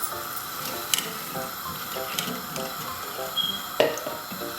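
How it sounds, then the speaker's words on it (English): Milk, 600 ml, is poured into a pot of cooking corn grit for a sweet corn kheer, making a steady liquid splash and trickle with a few clinks, close and moderately loud, without speech. "you can add 600 milliliters of milk and then turn up the heat"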